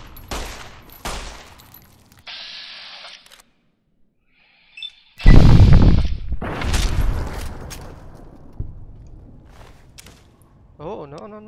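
Bursts of gunfire in the post-apocalyptic shooter Fallout New Vegas, a loud volley of shots among game effects, separated by quiet gaps, with talk nearby.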